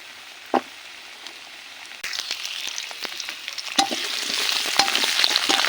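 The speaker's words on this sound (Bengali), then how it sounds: "তেলের ভিতর দিয়ে দিব আগে থেকে কেটে রাখা আলু" Pre-cut potatoes are dropped into hot oil: a quiet start with a single clink, then a sudden burst of sizzling that builds into a steady, close crackle with scattered pops.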